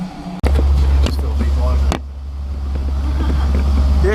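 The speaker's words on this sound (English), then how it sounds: "We've had the engine started a couple of times, but we haven't actually had it like working and using and going now." Restored boat engine running on a river trial run, a deep steady low rumble with wind buffeting, sharp knocks and a dip midway, people talking over it.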